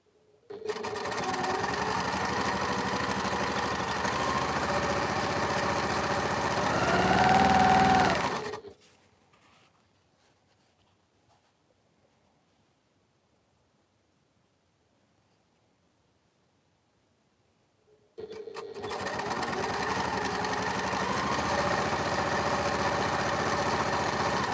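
A sewing machine chain-pieces quilt patches in a steady, close whirring run of about eight seconds, stops into near silence for roughly ten seconds, then starts again with the same even drone.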